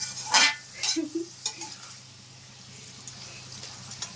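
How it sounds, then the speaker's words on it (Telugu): Mutton in a pot is stirred, giving a few loud clanks and scrapes of a spoon against metal, then a faint, low sizzle settles in while the pot rests. "బాగా అంతా కలుపుకొని కొంచెం నీరంతా ఇంకిపోయేంత వరకు వేయించుకోవాలండి మటను."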